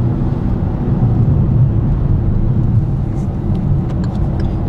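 Car driving along a city road in the Budyonnovsky district of Donetsk, heard from inside as a steady low engine and tyre rumble, fairly loud and continuous, with a few faint clicks near the end.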